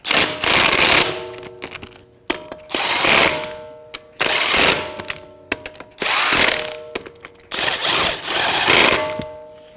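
Four bursts from a power tool snugging up the sway bar link nuts on a 2015-2024 Jeep Renegade with a 17mm socket, each a loud, close buzzing whir lasting about a second or more, separated by brief pauses and clicks.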